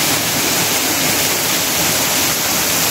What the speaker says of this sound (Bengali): পিছনে এই ঝর্ণাটা থেকে জলটা পড়ছে।